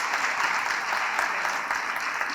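An audience at a legal clinics seminar applauds to close the first panel of talks, a steady, dense wash of clapping from many hands holding even throughout.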